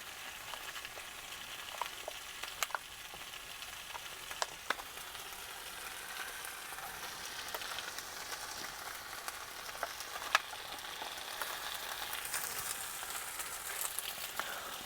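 Russian IRP field ration heating and sizzling: a continuous crackling fry hiss with scattered sharp pops, steady and close, with no talk.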